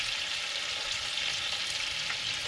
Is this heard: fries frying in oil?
yes